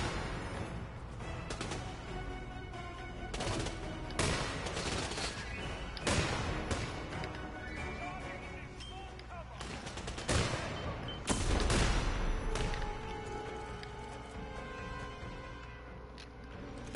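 Rapid bursts of gunfire ring out in a Hitman video game, with dense volleys and repeated sharp shots packed close together over a layer of game music, loud and continuous for the full stretch.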